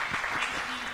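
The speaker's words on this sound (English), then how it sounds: "Round of applause, round of applause" A brief burst of audience applause at a roundtable event, dense and continuous clapping filling the moment with some voices mixed in.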